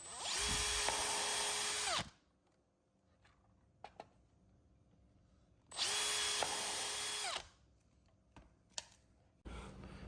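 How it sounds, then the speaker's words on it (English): Two loud bursts of a power drill boring through the metal box of a Tesla Wall Connector charger, each lasting about two seconds, separated by quiet with a few light clicks and knocks. "Okay, drill the holes through the box."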